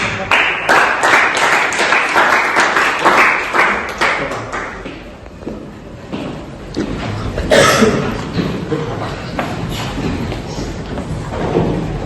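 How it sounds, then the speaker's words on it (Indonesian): Classroom of students clapping for a student group returning to their seats, a burst of many close, quick claps that thins out after a few seconds, followed by scattered taps, a cough and faint murmuring. "Sebelumnya kita berikan tepuk tangan."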